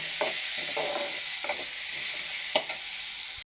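Asafoetida powder being stir-fried in a pan while making aval upma, with a steady close sizzle and several soft scraping strokes of a spoon.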